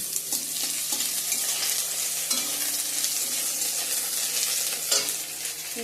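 Ginger and bay leaf frying in a pan, a loud continuous hiss of hot oil with occasional spatters and soft stirring knocks, close and unbroken, with no voices.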